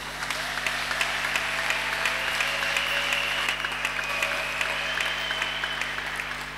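A congregation at a church service breaks into steady, continuous applause for the Lord, a dense wash of many hands clapping over a low hum, sustained without a break.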